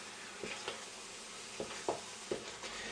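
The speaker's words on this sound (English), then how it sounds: "you do have to keep stirring it because it does catch on very easily" Thick blackberry fruit cheese is stirred in a jam pan over a low bubbling sizzle, with a few soft spoon scrapes and gentle knocks against the pan.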